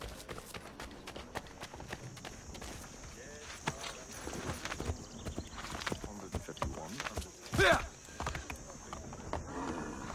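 Rapid hoofbeats of a galloping horse in Assassin's Creed 3, a steady clip-clop rhythm with a sharp louder hit partway through and background effects.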